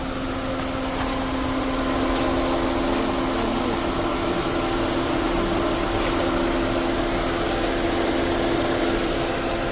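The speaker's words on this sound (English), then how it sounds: "Compressor also working fine." A 2016 Toyota Camry SE's A/C compressor runs with the engine idling, a steady mid-pitched mechanical drone and vibration heard close and continuous, with no voices.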